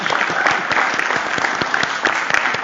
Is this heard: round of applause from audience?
yes